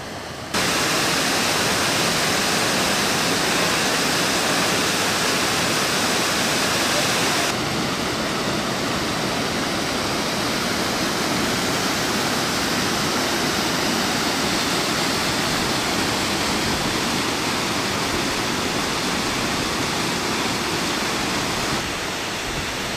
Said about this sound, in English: Alamir Creek is a pretty interesting watercourse because it has so many cascades and waterfalls